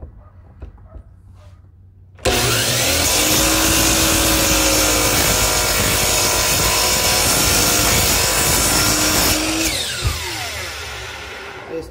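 A power saw makes a straight cut through a wood piece in a carpentry workshop, a loud, sustained buzzing whine lasting several seconds after a quiet start, then stopping abruptly.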